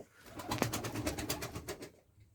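Young crested pigeons and their chicks coo and call in a short burst of soft, repeated notes close by, fading at the end.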